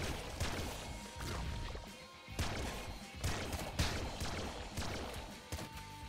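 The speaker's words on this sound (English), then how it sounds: "What weapon was that? Splasma gun. Oh my. I quite like this plasma gun." Splasma gun fire in the Nuclear Throne video game, a dense run of bursting, crashing shots with brief gaps between volleys, loud and continuous.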